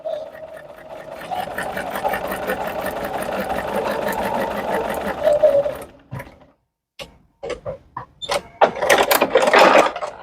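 A sewing machine sews a quilt block seam at a reduced stitch length of 2.0, first running in a steady rhythmic whir for about six seconds, then stopping and starting in short mechanical bursts and clicks, close by.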